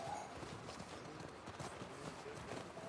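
Horse hooves clip-clop steadily in The Last of Us Part II, a quiet, even rhythm of hoofbeats under faint background ambience.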